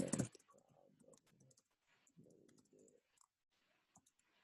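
Clicks from typing on a computer keyboard, faint and irregular, arrive in short bursts with pauses between them and no talk over them.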